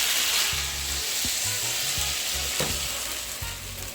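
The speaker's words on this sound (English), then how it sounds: "my chicken breast is still frying" Oil sizzles loudly and continuously as chicken breast fries in a pan, with occasional scraping and clinks of a utensil stirring.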